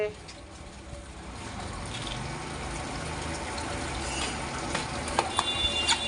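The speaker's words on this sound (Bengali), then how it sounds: "একটু জল পড়ছে" Light rain patters down steadily as a soft, even hiss of falling water, with a few sharper drips standing out near the end.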